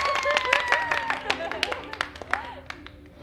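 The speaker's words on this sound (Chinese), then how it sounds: "我们大家赶紧为可风鼓掌" A small group of friends at a gathering claps for one of them, a short burst of close, scattered handclaps that fades toward the end, with some voices and murmuring mixed in.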